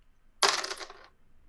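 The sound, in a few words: dice rolling during tabletop role-playing game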